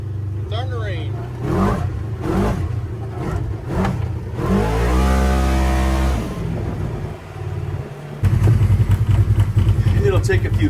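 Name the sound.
Polaris RZR XP 1000 engine running, a little rough at idle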